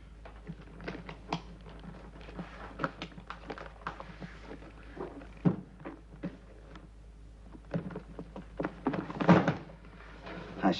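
A suitcase holding a gun is opened up close, with a run of sharp latch clicks, dull thunks and handling knocks building to a louder cluster near the end.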